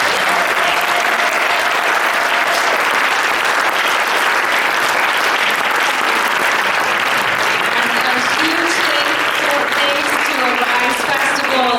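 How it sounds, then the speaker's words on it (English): Crowd at an outdoor music festival applauding loudly and steadily for about twelve seconds, dense clapping with cheering and voices mixed in, and people talking underneath. "if everyone would please give a round of applause for this incredible"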